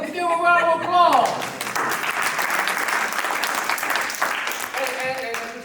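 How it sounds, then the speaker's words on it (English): Audience applause fills a community evening event, a steady dense wash of clapping that swells loud and holds for several seconds while voices and whoops mingle underneath. "Let's give a round of applause."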